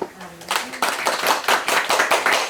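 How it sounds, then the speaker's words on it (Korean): A congregation claps in rhythm at a Thanksgiving Sunday church service, loud, close and steady, with a brief voice at the start before the claps take over. "할렐루야, 영광의 박수"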